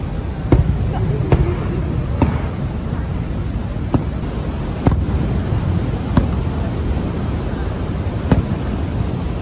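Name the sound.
fireworks at Niagara Falls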